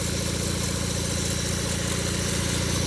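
A small vintage vehicle's engine, freshly fitted with a starter/generator and fed fresh gas through the fuel pump, idles steadily and loudly nearby with an even, throbbing pulse and a constant hum.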